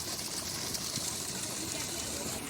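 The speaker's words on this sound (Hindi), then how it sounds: "तो ये बहुत प्राचीन धारा है हमारे गांव का।" An old spring-fed stream in a village runs steadily, producing a constant close rushing and gurgling of flowing water with no pauses.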